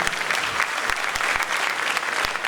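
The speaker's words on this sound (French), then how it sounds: "On l'applaudit très fort, Monsieur Gueye, Kaifil." An audience claps loudly and steadily in a theatre during a school excellence and retirees' celebration, dense applause filling the space without pause.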